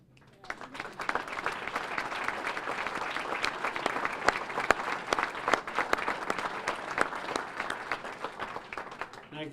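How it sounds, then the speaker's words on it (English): Sustained applause from a dinner crowd for chamber of commerce ambassadors, dense clapping that starts abruptly and holds steady at moderate loudness. "But if our ambassadors would please stand for some applause."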